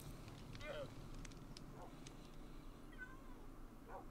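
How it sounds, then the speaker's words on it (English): A cat in the Minecraft video game gives a couple of faint, short meows over a steady bed of game noise, with a voice talking in the background. "This may be a traumatized cat, but it's an alive traumatized cat."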